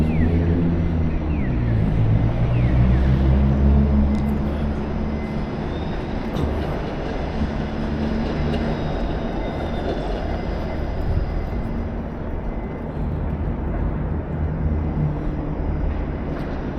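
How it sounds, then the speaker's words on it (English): An early morning train rumbles past nearby in downtown Toronto, a heavy low roar with rolling, clattering texture that stays loud and steady throughout. "looks like the early morning train is here."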